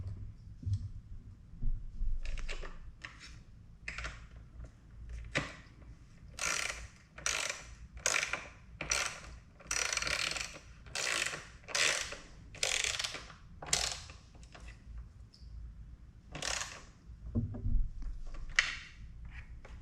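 A 12mm socket ratchet works on a rear side cover of a 2021 Yamaha MT-07 motorcycle, giving close, crisp bursts of rapid clicking in repeated strokes separated by short pauses.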